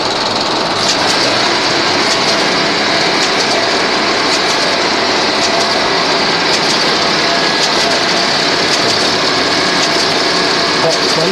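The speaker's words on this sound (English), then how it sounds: "The motor will be running and the clutch will drop in." Early calculating machine motor running steadily with a continuous mechanical whir and faint rhythmic clicking, a clutch engaging partway through as the drive picks up.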